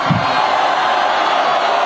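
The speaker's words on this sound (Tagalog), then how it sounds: "naririnig niyo yung hiyawan na yon?" A dense, loud roar of a large crowd shouting and cheering at an outdoor political rally tied to an Iglesia ni Cristo event, steady and continuous throughout with no break.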